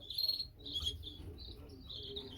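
Canary chicks chirp to be fed in a breeding cage, giving a few quiet, high, short cheeps spread across a couple of seconds against a faint background.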